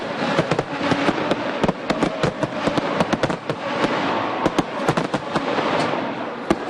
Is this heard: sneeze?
no